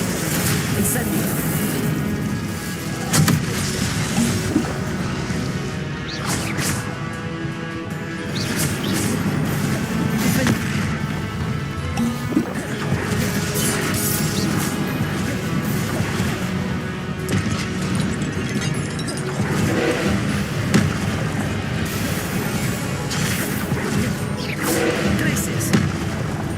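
Incendio fire spell impacts in the game Hogwarts Legacy, repeated booming blasts and whooshes over a dense, continuous bed of combat effects, with a voice calling spell names throughout.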